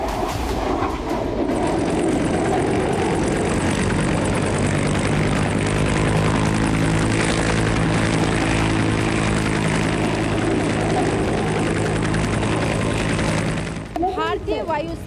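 Military aircraft flying during the Indian Air Force Tarang Shakti exercise, a loud sustained roaring drone close overhead for most of the clip, with a voice speaking over the final moments.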